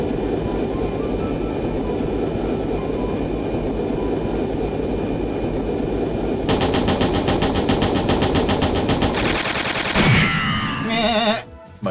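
Rapid machine gun fire in the video game Trails in the Sky, with bursts becoming denser and louder in the second half amid game sound effects, with no talking.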